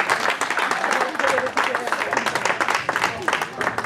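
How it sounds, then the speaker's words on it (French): Steady audience applause at a pastor's 60th birthday celebration, dense rhythmic clapping from a crowd, close and fairly loud, with faint voices underneath. "On peut l'applaudir."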